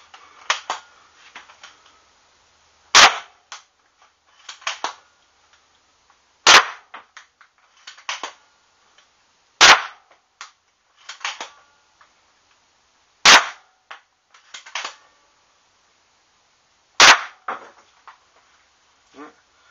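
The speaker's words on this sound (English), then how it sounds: "Firing test. I have 5 darts in the hopper clip." A marshmallow crossbow fires darts from a five-dart hopper clip, a series of sharp loud snapping shots about every three seconds, each trailed by quieter clicks and rattles of reloading, with no voices.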